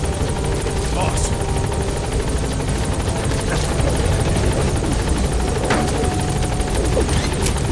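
Pequod, the support helicopter in the Metal Gear Solid V: The Phantom Pain video game, hovers at a landing zone with a steady, loud rotor roar throughout, while radio voices talk over it.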